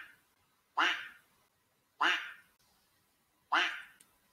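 Voices imitate ducks quacking: three loud, drawn-out nasal quacks, evenly spaced with pauses between, close and alone.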